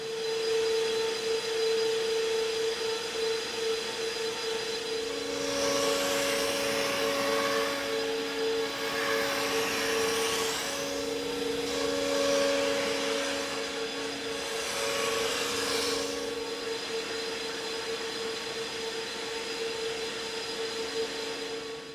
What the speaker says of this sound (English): I open that up on the machine control and I make the part